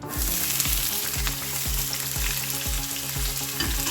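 Chopped onions sautéing in hot oil for a Kerala chicken curry, a loud continuous sizzle with a regular beat of spatula strokes against the pan, no voices.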